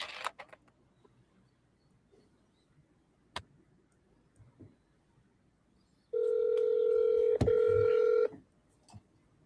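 A quick run of electronic keypad tones, a couple of seconds of steady dialing beeps, clear and close after quiet clicks and soft handling noises.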